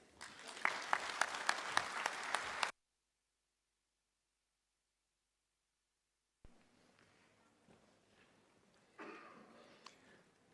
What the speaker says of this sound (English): Professor Mputi deserves another round of applause